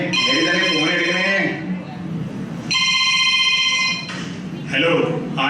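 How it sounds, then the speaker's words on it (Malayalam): A telephone rings during a call, with repeated electronic ringing bursts that stop and start. People talk between the rings. "ദൈവമേ, മേരി തന്നെ ഫോൺ എടുക്കണേ."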